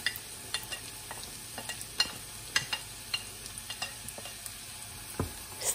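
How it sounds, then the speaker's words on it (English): Sweet potato casserole mixture with lemon zest being stirred, giving a faint continuous sizzle broken by scattered light scrapes and taps of a spoon against the pan. "Stir them for a moment."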